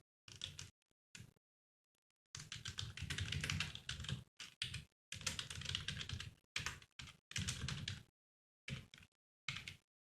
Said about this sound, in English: Let me type it out first.